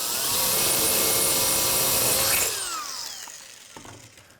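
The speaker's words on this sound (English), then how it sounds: "we're going to go ahead and start drilling the next wall" A power drill bores through a metal back frame wall, its loud, steady whine holding for a couple of seconds before it winds down and fades, with a few small clicks at the end.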